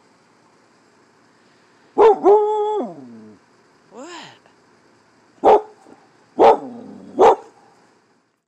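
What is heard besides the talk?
family dog barking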